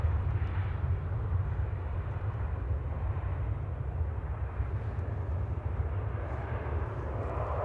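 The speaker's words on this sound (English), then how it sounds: "Third and final A380 departure of the day from Manchester, heading back to Dubai." An Emirates Airbus A380 departing Manchester Airport makes a steady, distant low roar of jet engines. The rumble holds at a constant level throughout and no one speaks.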